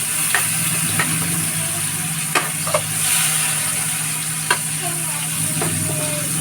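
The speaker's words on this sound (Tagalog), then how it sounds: "Ilagay ko lang yung luya, sibuyas at saka bawang." Ginger, onion and garlic sauté in hot oil in a wok, a steady close sizzle broken by several sharp clicks and scrapes of a spatula, with a low hum running underneath.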